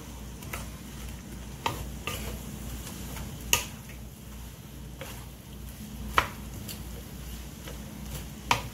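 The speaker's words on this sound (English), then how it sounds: "I hear that sizzle." Cabbage sizzles softly in a pan with a steady crackle, punctuated by several sharp clicks and taps of a utensil stirring against the pan.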